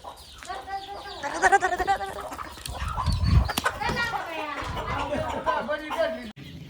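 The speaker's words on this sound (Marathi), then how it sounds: "आता कोंबडी पकडण्याचा प्रयत्न चालू आहे बऱ्याचशा कोंबड्या आहेत तिकडे" Chickens clucking and squawking in a busy flock on a poultry farm, with wing flapping and people talking over the commotion nearby as they try to catch them.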